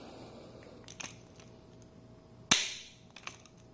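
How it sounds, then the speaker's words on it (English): A single sharp snap as a rivet gun squeezes an aircraft-grade pop rivet fastening a vent on an NC Miata hood, near and loud, preceded by faint handling clicks and followed by a couple of small ticks. "come in there with your rivet gun"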